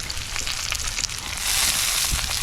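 Chopped onion, tomato, coriander and green chilli fry on a hot tawa with a steady, close crackling sizzle that swells louder partway through, faint stirring scrapes beneath and no voices.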